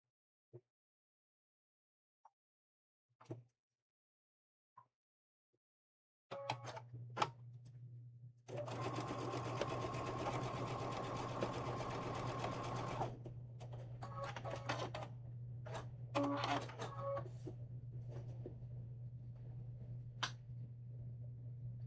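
A sewing machine stitching a seam in quilting fabric starts after a few scattered soft clicks and handling taps, then runs as a steady close mechanical whir with a low hum for over ten seconds, followed by more handling clatter with the motor still humming.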